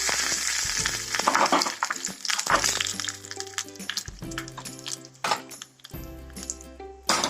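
Curry leaves and a dried chilli hit hot oil in a pan, crackling and sizzling loudly with sharp pops and spits, along with scraping and clinks from a utensil against the pan.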